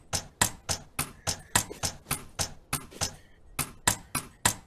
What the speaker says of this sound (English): So if I take too long hammering this part in